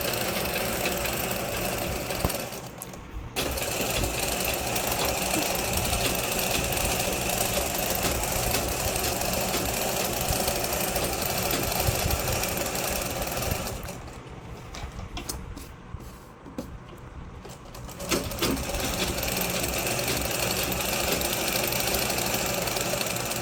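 A sewing machine stitches a saree fall in a straight line with a loud, steady mechanical whir, briefly slowing around the third second and easing off for a few seconds in the middle before running on.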